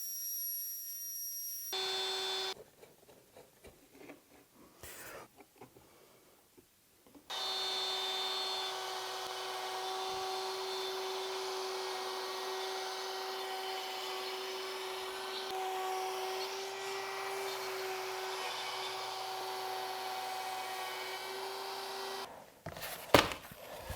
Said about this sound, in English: we're just going to use the router